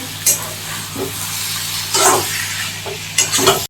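Fish roe fried and stirred in a pan with a little sugar, giving a steady close sizzle with a spatula scraping and stirring at intervals and brief bursts of hissing steam.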